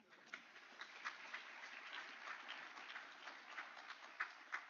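An audience at a university business and management graduation ceremony applauds, soft and somewhat distant, with steady clapping and a few sharper individual claps standing out near the end.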